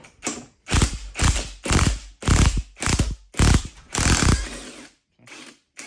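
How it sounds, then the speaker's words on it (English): A bearing puller drags the bearing off the shaft of a Pentair Intelliflow pool pump motor, making a series of loud, close, rhythmic mechanical bursts like a power driver or ratchet, roughly eight pulses with short pauses. "Now I'm gonna use the bearing puller to pull the bearing out."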